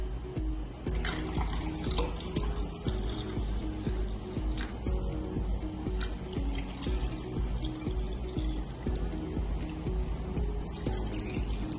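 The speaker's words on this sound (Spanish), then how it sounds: "Para comenzar, vamos a llenar los vasos con la misma cantidad de agua." Tap water runs steadily into drinking glasses, filling each with an equal amount for an egg experiment on Archimedes' principle and capillarity. The continuous pouring sits over a low, tonal background.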